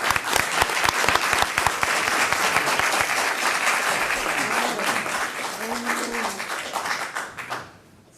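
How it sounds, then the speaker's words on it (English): A city council meeting audience applauds for several seconds with dense, brisk clapping that gradually thins and fades out near the end, with a few voices murmuring underneath. "So let's give Javier a round of applause."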